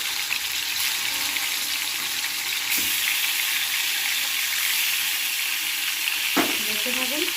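Fish fries in hot oil in a wok, a loud, steady sizzle throughout, broken near the end by a brief clatter of a utensil.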